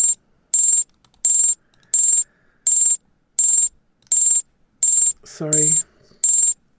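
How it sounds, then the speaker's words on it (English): Computer trading alarm notifications chime in a steady repeating pattern of short high beeps, about one every two thirds of a second, fairly loud, with a brief spoken word cutting in near the end. "The alarms work."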